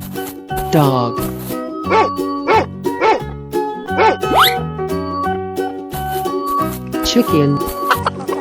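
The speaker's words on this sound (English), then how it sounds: "Dog." Cartoon dog barks from a 3D animal slide video game, a few bouncy yips over continuous upbeat game music, with a voice speaking briefly alongside.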